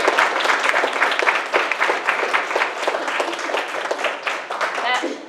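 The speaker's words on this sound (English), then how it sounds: "give our teachers, and students, and coaches, and principals a round of applause for their hard work" A school board meeting audience gives a sustained round of applause for teachers, students, coaches and principals, a dense wash of many hands clapping at moderate loudness for several seconds.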